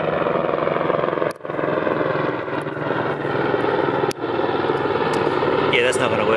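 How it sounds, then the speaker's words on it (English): A steady mechanical drone of a helicopter passing overhead, continuous and fairly loud, with brief dips and faint clicks along the way. "What's that noise? Oh yeah, helicopter!"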